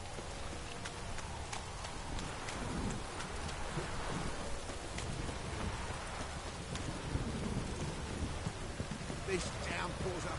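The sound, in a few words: rain and thunder of a downpour in The Witcher 3 video game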